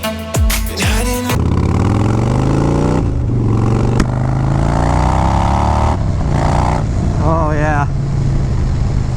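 Harley-Davidson Dyna Lowrider S motorcycle being ridden, a loud close V-twin rumble with a couple of short rising revs at the start, then steady cruising engine tone with gear-change dips, someone speaking briefly over it.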